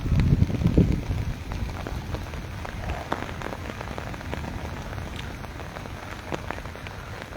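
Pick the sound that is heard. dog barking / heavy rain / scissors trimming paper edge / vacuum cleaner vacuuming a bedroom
heavy rain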